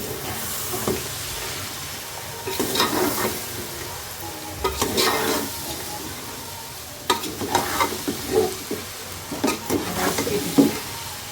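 Vegetable fried rice is stirred and tossed in a hot pan, a soft steady sizzle broken by bursts of scraping and clinking from the spatula at irregular intervals.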